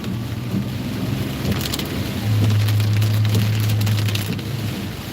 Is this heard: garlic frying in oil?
no